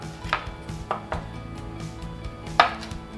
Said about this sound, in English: When I cut avocado,